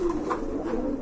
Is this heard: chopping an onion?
no